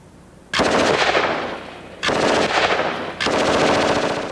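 A Stoner 63 machine gun fires three long bursts of rapid automatic fire, loud and close, with short gaps between bursts and no talking.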